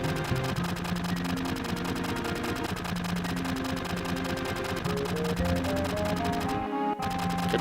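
Final Fantasy VII enemies fire a rapid, steady stream of shots at Barret, a mechanical rattle of gunfire repeating without pause over looping game music.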